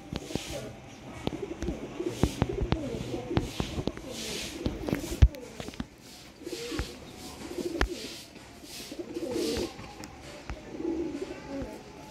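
Domestic breeder pigeons cooing in soft repeated throaty calls, with rustling and light shuffling nearby and a faint voice in the background.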